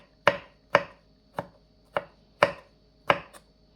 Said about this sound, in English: I like to cut up my pepper and thing and put in all my stuff